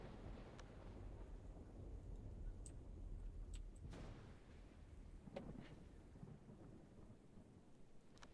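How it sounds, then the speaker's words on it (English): Video game rain pours steadily and continuously, with a few rumbles of thunder rolling through the downpour; no talking. "And now it's raining."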